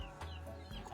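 A hen with newly hatched chicks gives a quick, soft clucking call, close but faint and over in a moment.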